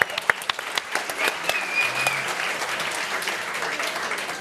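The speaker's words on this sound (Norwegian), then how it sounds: "En applaus for Hege fra Maura." Studio audience applause on a live talk show in Bergen: a dense, steady wave of clapping from a crowd that holds at an even level for several seconds, with no voices over it.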